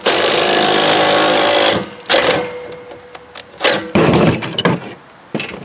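A power tool whirs loudly and steadily up close for about two seconds, then gives way to scraping, clanking bursts of metal work as a two-jaw gear puller is used on a rusted lawn mower blade adapter.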